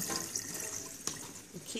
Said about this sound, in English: And then I just rinse them with cold water.